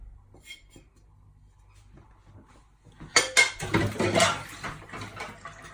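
Dry spices such as curry powder, garam masala, crushed red chilli, salt, black pepper and cinnamon powder being stirred together in a dish for chicken tikka masala, with close scraping and clinking of a utensil against the bowl after a quiet start.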